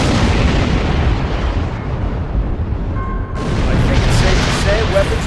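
A Romulan warbird comes under weapons fire in the Star Trek Online game: a dense, continuous roar of booming explosions and blasts, loud throughout with a few tonal electronic tones mixed in.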